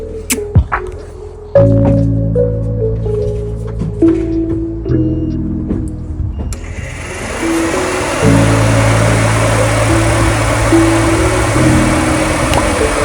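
A Nissan 240SX S14 Kouki with an SR20DET engine, being worked on for a fuel leak, cranks over and settles into a loud, rough idle nearby after a few short clunks.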